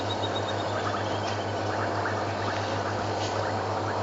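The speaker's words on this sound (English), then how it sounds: "I think these are all bubbling casinas that we can hear. Lovely little frogs." Bubbling kassina frogs call from outdoors on a safari drive, giving faint, repeated liquid bubbling notes over a steady engine hum and a constant noisy background.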